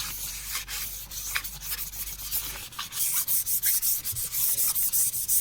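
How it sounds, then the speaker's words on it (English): A curved wooden Les Paul-style guitar body top is hand sanded with loose sandpaper and no block. Close, rhythmic rasping strokes are heard alone, growing quicker and more regular in the second half. "I'm going to have to use the sandpaper without the block"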